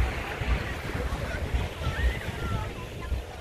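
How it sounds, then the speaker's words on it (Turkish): Ocean surf washes in a broad steady roar on an overcast day, with wind buffeting the microphone, while someone talks over it. "İşte okyanusumuz. Okyanus."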